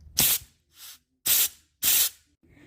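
Compressed air blasts from an air nozzle into a Toyota VVT-i cam gear, three loud hissing bursts with a softer puff between, close up and with no talking.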